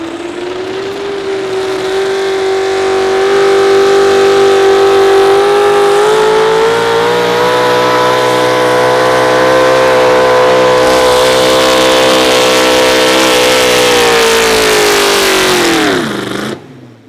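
The Grizzly Chevrolet pro stock 4x4 truck pulling a sled at an outlaw truck pull in Wisner, Nebraska, its engine roaring loud and sustained at high revs, then dropping sharply at the end.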